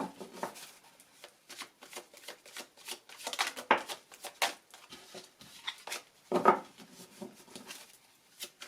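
Tarot cards are shuffled close up for a love reading, giving a continuous crisp riffle of soft slaps and flutters with a few sharper snaps, steady throughout and without voices.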